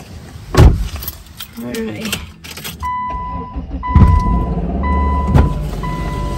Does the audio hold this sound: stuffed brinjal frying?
no